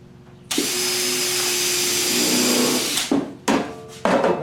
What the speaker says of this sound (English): we're screwing the ends on this.